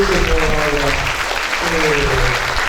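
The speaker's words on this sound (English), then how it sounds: "So let's give a round of applause to" An audience at a Diwali celebration applauds the chief guest, a managing director and business community president, with a loud, continuous patter of clapping over tonal music or voices.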